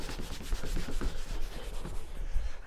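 Clay bar rubbing across a car's painted body panel during wrap preparation, a soft, gritty, scratchy friction repeating in short back-and-forth strokes, close and fairly quiet.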